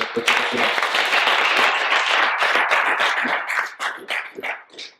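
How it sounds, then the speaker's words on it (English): Business-event audience breaks into loud, sustained applause with dense clapping close by, then thins into scattered claps and fades out at the end. "Everybody give a round of applause."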